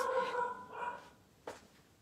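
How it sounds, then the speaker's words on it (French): A pet dog gives a short bark or yip indoors, brief and moderately close, then things fall quiet with low room noise. "Excusez, là, mon chien vient de japper, ça m'a déconcentré."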